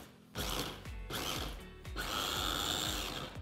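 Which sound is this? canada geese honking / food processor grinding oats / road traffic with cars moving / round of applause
food processor grinding oats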